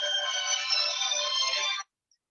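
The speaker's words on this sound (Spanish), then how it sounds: "justo me estaba llamando Pablo Campos, disculpen." A mobile phone ringtone sounding during a digital cartography lecture, a bright steady electronic tone with layered harmonics that plays continuously for almost two seconds and then stops abruptly, leaving silence.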